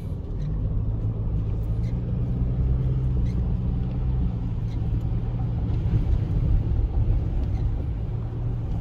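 A Toyota Hilux GRS drives on a paved road, with a steady low engine and road rumble droning continuously throughout and no breaks or talking.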